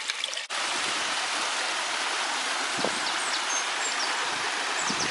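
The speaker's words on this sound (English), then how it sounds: "Walking the path next to the river. Loads of rapids everywhere, so you can hear the roar." Roaring river rapids beside a walking path on the Pennine Way, a dense, continuous rush of water filling the scene, loud and close, with faint footstep crunches and no talking.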